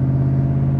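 Ford Coyote V8 in a 1965 Shelby Cobra Backdraft, idling with a steady low, throbbing rumble that stays close and even throughout, with no voices over it.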